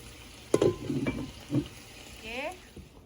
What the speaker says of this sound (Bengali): মশলা দিয়ে এটা ভেজে নিচ্ছি